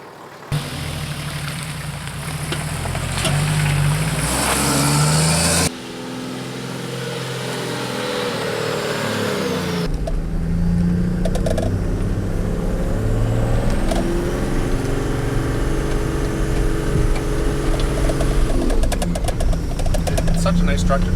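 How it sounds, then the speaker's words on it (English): Boosted diesel engine of a Toyota Land Cruiser 1-ton truck running steadily, a low rumbling drone that shifts in tone partway through, heard up close with someone talking over it. "it is a 1-ton truck, and barely even sounds like a diesel"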